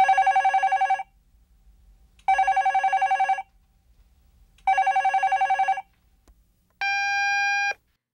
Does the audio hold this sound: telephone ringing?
yes